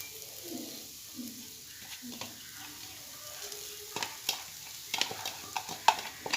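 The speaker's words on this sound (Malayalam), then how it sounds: "ഇനി നമുക്കിതിലേക്ക് നമ്മുടെ ക്യാരറ്റ് ഇട്ട് കൊടുക്കാം കേട്ടോ." Carrot sautéing in a pan for carrot kappa payasam, a soft sizzle under a few light stirring scrapes and clinks that grow sharper toward the end, with no talking.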